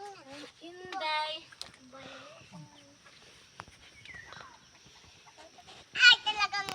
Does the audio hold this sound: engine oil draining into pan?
no